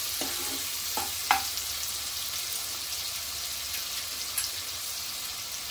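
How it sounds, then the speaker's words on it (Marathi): Chopped onion frying in a pan until it turns translucent, a steady soft hiss and crackle running throughout, with a few brief louder clatters near the start. "कांदा चांगला शिजवून घ्यायचा, म्हणजे ट्रान्सपरंट करून घ्यायचा आहे"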